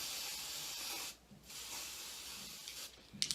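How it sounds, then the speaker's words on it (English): A can of lace tint hisses in two long, close bursts onto the inside of a Sensationnel lace front wig, with a short pause between them and soft handling clicks at the end. "I'm gonna go ahead and tint the inside."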